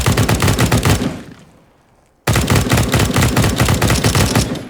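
Rapid automatic gunfire in the video game CS:GO rattles loud and sustained, breaks off into a fading tail and near silence, then bursts back abruptly into another long continuous spray.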